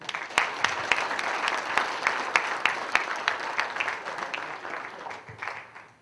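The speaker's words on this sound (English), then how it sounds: "give yourselves a hand" An audience applauds at a live Q&A event, with steady, sustained clapping and a few sharp individual claps standing out before the applause tapers off near the end.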